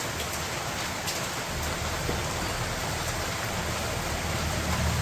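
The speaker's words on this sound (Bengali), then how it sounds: "এদিকে বৃষ্টি নেমে গেছে গা।" Steady rain falls outdoors during home cooking, a dense even hiss of drops on surfaces that holds constant and fairly loud throughout with no talk.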